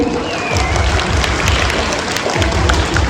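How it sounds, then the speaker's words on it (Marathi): An audience claps at a primary-school prize-giving, a dense burst of applause with rhythmic low thumps running through the whole stretch, steady and fairly loud. "सर्वांनी टाळ्या वाजवायच्या"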